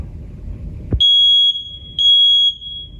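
Two loud, piercing smoke alarm beeps sound back to back, each about half a second long, after a brief rustle against a quiet background.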